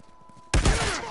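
Sudden burst of gunfire in The Last of Us multiplayer, a loud dense volley that cuts in halfway through after a quiet stretch and keeps rattling to the end.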